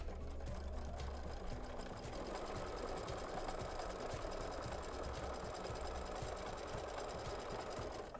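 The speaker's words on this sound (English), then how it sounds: "Just going to come right here and start stitching." A sewing machine stitches quilting fabric in a steady, rapid mechanical hum and rattle that runs without pause for several seconds, close and alone.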